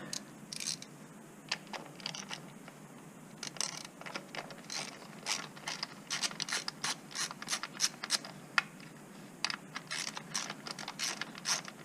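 A ratchet wrench with a 10mm socket loosens an ignition coil bolt on a car engine, giving a close, rapid series of clicking pawl strokes in short bursts with brief pauses, with no voices.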